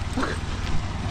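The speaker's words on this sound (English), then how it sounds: "Another dog that looks like Blackie" A dog barks and yips briefly outdoors in Dumaguete, Philippines, set against a loud, rumbling background of traffic or engine noise that partly buries the calls.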